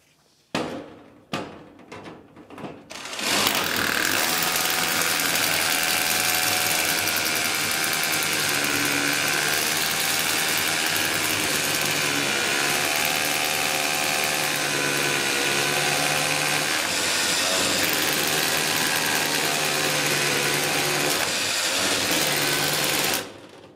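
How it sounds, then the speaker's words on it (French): VONROC cordless hammer drill boring with a 10 mm bit: after a few short clicks and bursts, a loud, sustained whining drone with a wavering pitch runs for about twenty seconds, then cuts off abruptly. "Là je vais percer à 10 directement pour voir."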